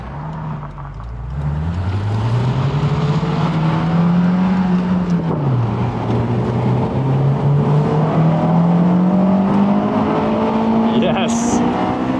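Honda S2000 sports car heard from inside while driving, its engine note rising and falling with gear changes over road noise, loud and continuous throughout.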